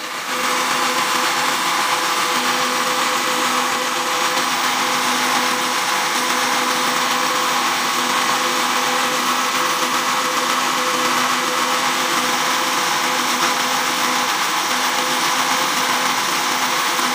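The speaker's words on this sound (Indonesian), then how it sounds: "Lalu kita blender kawan." A blender whirs steadily at high speed for the whole stretch, a loud, constant motor drone with no pauses.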